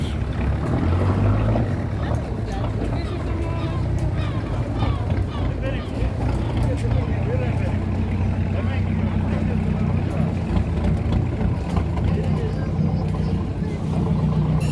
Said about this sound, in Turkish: Tekne de hemen yanaştı zaten.